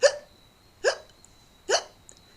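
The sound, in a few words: narrator imitating a hippo's loud hiccups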